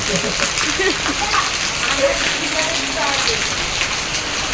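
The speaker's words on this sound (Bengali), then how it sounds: "আর সেই লেভেলে বৃষ্টি হচ্ছে সেই লেভেলে" Heavy rain pours steadily outside a temple near a main road, a dense, even hiss of drops on surfaces that fills the whole stretch, with brief faint sounds mixed in.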